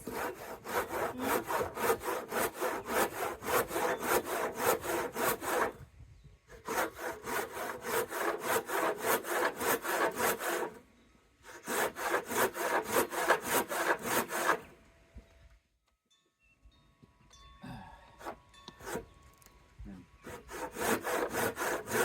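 A hand saw rips through wood at a driveway gate build, with steady back-and-forth strokes in long runs separated by short pauses, close and loud, with no talking.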